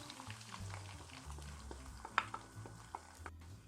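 Whisked eggs poured into a hot pan for fried rice, a faint, quiet sizzle with soft pops and a few utensil taps, close, with no talking.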